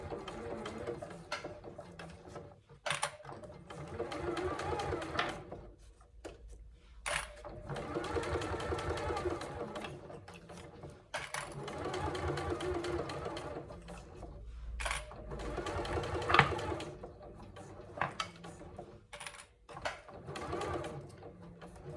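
A sewing machine stitches a handbag seam, running in several bursts of rapid, steady needle chatter with brief pauses between runs, close and moderately loud.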